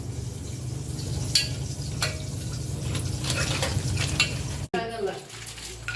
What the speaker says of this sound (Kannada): ಜೀರಾ ಹಾಕಿದ್ಮೇಲೆ ಸ್ವಲ್ಪ ಹಿಂಗೆ ತಿರ್ಸ್ಬೇಕಾ?